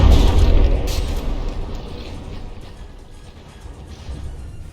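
Depth charges explode in the naval combat game From the Depths, a loud booming burst at the start that rolls away into a fading, rumbling tail, with a softer thud later.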